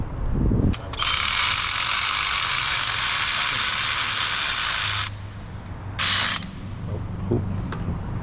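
Ratchet clicking steadily as it tightens downpipe bolts on a 2.0L Civic, a long dense burst of rapid clicks followed by a shorter second burst, close and loud in a garage setting.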